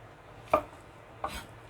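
A knife cuts king oyster mushrooms into thick strips on a cutting board, two crisp separate chops about a second apart, close and alone over quiet kitchen background.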